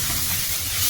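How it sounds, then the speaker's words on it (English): Onions, garlic and ginger sizzle in a hot pan for a chicken stir fry, giving a steady close hiss of frying that runs unbroken and fairly loud, with no talking. "we give it a quick stir. The onions, garlic, and ginger."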